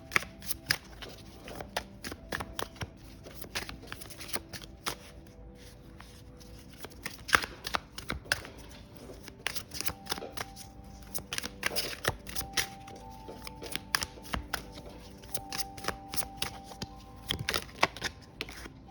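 A Rising Sun Oracle card deck is shuffled again and again, giving quick crisp riffling bursts in an irregular rhythm, close and fairly quiet with no one talking.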